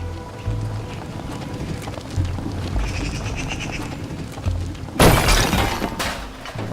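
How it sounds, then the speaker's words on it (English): A small yarn character in Unravel crashes into a log, a sudden loud rough burst about two-thirds through, following a stretch of busy rumbling game sound. "Right, I've just smashed into this little log."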